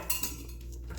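Plate handled in a home kitchen while making Tunisian harissa chicken, a couple of soft ceramic clinks and knocks as it is picked up and set down, brief and fairly close.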